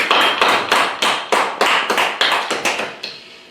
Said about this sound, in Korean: 하나님께 감사와 영광의 박수를 한번 드리겠습니다.